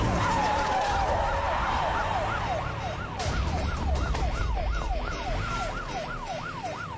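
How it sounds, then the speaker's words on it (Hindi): A wailing ambulance siren in a Hindi-dubbed action movie sweeps rapidly up and down, shifting from a slower wail into a fast yelp, heard over rumbling traffic noise. "ये तो पुलिस का सायरन है।"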